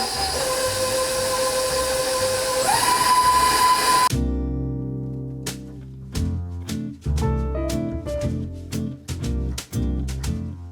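An electric mixer beats frosting with powdered sugar at medium speed, a loud steady motor whine whose pitch rises partway through, then cuts off and is followed by a series of light knocks and clinks.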